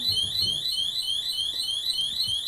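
A door alarm set off by a malfunctioning door sounds a steady, repeating warbling electronic tone, fairly loud and continuous over a low background rumble.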